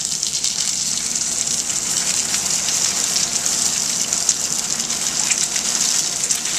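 Snapper and salmon fillets searing skin side down in a hot pan give off a steady, loud, hissing sizzle that runs unbroken throughout, with no talk over it.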